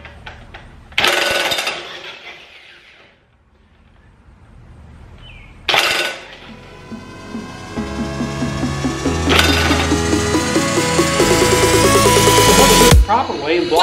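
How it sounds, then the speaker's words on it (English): A Kobalt 420 foot-pound half-inch torque driver removes mower blades, firing in loud rattling bursts with pauses between them, then a long sustained run that climbs in pitch before cutting off, close by. "we're going to take our cobalt 420 foot-pound half-inch torque driver to this and take these blades off"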